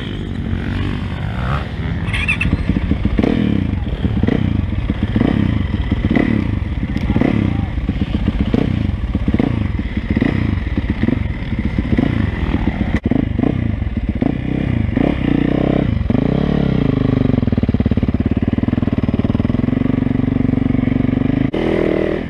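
A 450 four-stroke motorcycle is ridden close by, its engine throbbing loudly and continuously with rhythmic pulses and some clatter for over twenty seconds.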